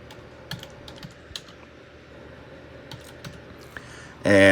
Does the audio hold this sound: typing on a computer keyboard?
yes